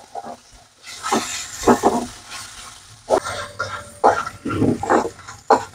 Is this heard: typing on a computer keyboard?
no